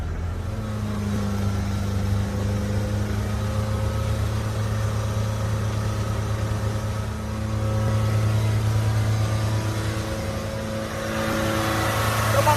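Car engine in a diesel particulate filter cleaning, held at a steady moderate idle with light throttle to burn off soot, a continuous droning hum that rises slightly in intensity toward the end.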